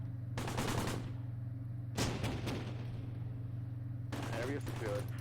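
A tank opens fire during a Close Combat battle, with three separate bursts of rapid gunfire, the first and last longer, each loud against a low steady hum.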